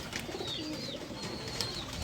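Lahori pigeons coo softly on a rooftop loft, low rolling calls layered with faint chirps and background ambience, steady and moderately near.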